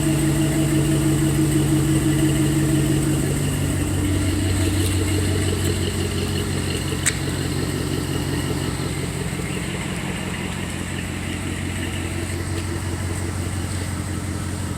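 A pickup truck fitted with Black Horse mufflers idles steadily at a car wash, a close, continuous low engine rumble running throughout with no revving.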